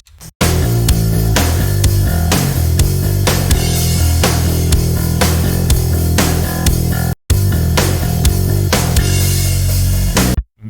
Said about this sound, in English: So bass and drums sound like this together.